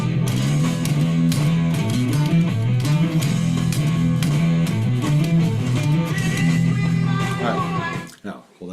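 An electric guitar plays a riff, with two guitar parts at the opening. The fast, driving notes come up close and loud, then cut off and fade at the end.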